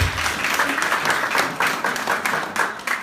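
Audience at a youth empowerment conference in a leisure centre gives a round of applause, close and loud clapping with uneven swells across a short stretch.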